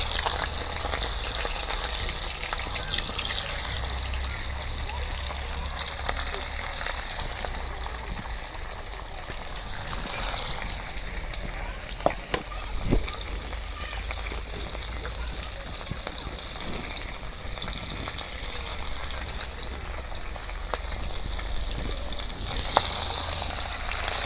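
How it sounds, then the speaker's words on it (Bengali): Fish pieces, head included, frying in hot oil in a wok, giving a steady dense sizzle that fills the whole stretch, with a few brief utensil clatters partway through. "তেল গরম হচ্ছে, এখন আমি মাছগুলা দিয়ে দিই।"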